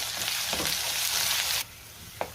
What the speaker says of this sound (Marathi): चांगलं तेल सुटेपर्यंत वाटण परतून घ्यायचे